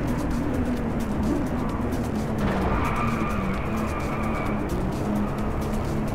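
A car drifting through a bend in the racing game Driveclub, with a steady loud engine roar and a long tire squeal that rises partway through, continuous and close with no talk.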